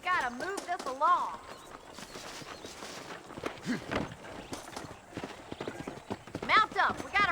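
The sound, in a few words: horse hooves clip-clopping in the video game Red Dead Redemption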